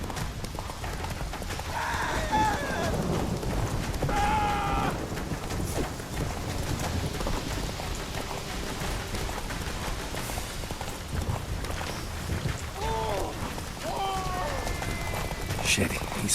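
Roach the horse gallops in The Witcher 3, steady hoofbeats drumming throughout, with a voice talking over them at intervals.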